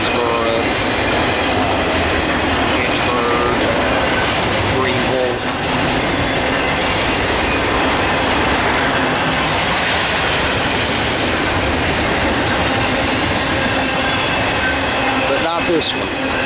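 A Norfolk Southern northbound intermodal freight train, led by UP AC45CCTE and NS SD70M-2 locomotives near Charlotte Junction, rolls past close by with a loud, steady rumble of wagons and occasional high wheel squeals throughout.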